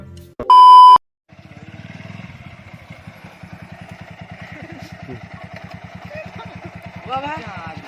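A sharp electronic beep sounds, then a motorcycle engine idles close by with a steady, rapid putter and a brief revving rise near the end.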